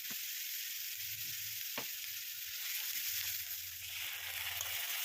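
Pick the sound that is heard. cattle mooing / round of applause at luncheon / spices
spices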